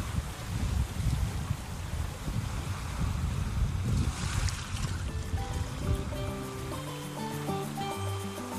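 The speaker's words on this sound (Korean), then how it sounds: "동구 방어동 슬도의 파도 소리였습니다" Sea waves surge and crash against rocks with gusty wind at Seuldo, Bangeo-dong, Ulsan, a continuous rough roar; soft music fades in toward the end.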